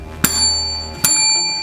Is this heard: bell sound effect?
yes